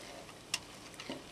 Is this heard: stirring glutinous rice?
yes